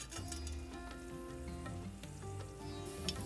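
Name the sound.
mustard seeds spluttering in hot coconut oil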